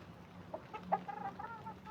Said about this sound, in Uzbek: Nariyada mana yana qora tovuqlarimiz bor.